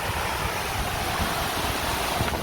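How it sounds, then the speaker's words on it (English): Dense, steady roar of falling water at Duden waterfall in Antalya, Turkey, a continuous broadband rush close by with no talking. "over here you'll see the waterfall"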